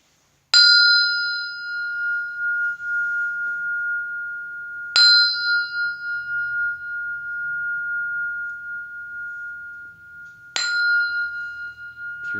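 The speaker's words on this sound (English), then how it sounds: "and I'll sound this bell." A meditation bell is struck three times, each strike ringing out clear and long, sustained tone fading slowly before the next, with silence between.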